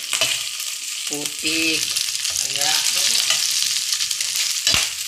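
Fish frying in hot oil gives a loud, steady sizzling hiss with spattering crackles throughout, while a voice talks over it in the middle stretch.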